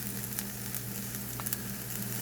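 Hashbrowns fry in grease in a frying pan, giving a steady, close crackling sizzle with occasional louder pops and no talking.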